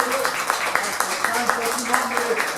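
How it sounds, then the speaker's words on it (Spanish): Church congregation clapping hands in a steady rhythm, about four claps a second, under a preacher's voice and background sound. "denle palmas al Señor"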